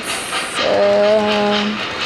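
An MTH model Berkshire steam locomotive sounds a loud, close, chord-like whistle lasting about a second, after a short hiss, with faint rhythmic running noise around it.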